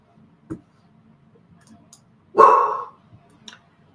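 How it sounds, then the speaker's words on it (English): A single sharp dog bark rings out, aimed at a refrigerator ice maker, preceded by a soft click and followed by faint ticks in an otherwise quiet room. "My dog barks at the refrigerator, ice maker, because the ice maker making noise."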